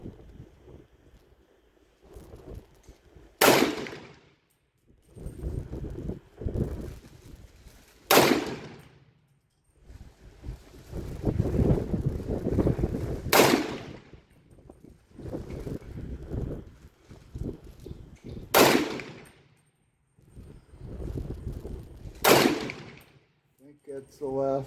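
A 1943 Inland M1 carbine fires outdoors, about seven sharp, loud single shots spaced a few seconds apart. Wind noise and quiet handling sounds fill the gaps between them.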